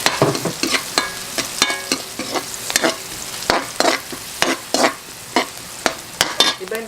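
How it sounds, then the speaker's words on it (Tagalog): Garlic sizzles in hot oil with onions in a pan while a utensil stirs it repeatedly, giving close, steady frying crackle broken by regular scraping strokes during a tuna carbonara preparation. "Okay, after po natin ilagay yung sibuyas, ilagay natin ang ating bawang."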